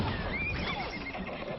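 Cartoon horse whinnying in an animated children's show, a wavering high neigh rising and falling over a dense bed of background noise, with possible faint hoof clatter and no speech.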